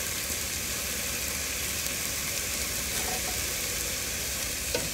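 Curry paste fries in fresh coconut milk for a Thai curry sauce for khanom jeen, giving a steady, close sizzle and bubbling crackle that continues without a break.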